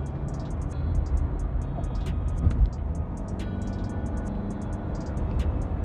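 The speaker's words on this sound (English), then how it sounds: "This car does sound very sporty." A Mercedes-Benz C250d diesel sedan driving in sport plus mode, heard from inside the cabin as a steady low engine drone and road rumble, fairly loud, with a faint high chirping sound on top.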